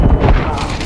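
A flashbang grenade goes off in a video game match as a single loud, heavy burst with a deep low rumble that fades quickly.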